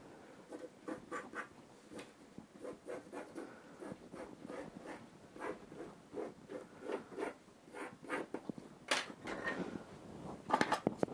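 Pencil or marker scratches around a cardboard disc on canvas in quick, continuous rubbing strokes, close and fairly quiet, with no talk.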